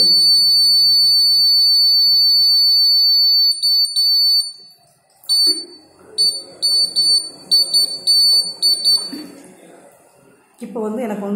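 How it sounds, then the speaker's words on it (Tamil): An ultrasonic water-level sensor circuit sounds a loud, piercing electronic alarm as a continuous high tone at first. It then breaks into rapid intermittent beeps while someone talks over it, and the beeping stops before his voice continues alone. "4 சென்டிமீட்டரில் வந்து எனக்கு அலாரம் வருது."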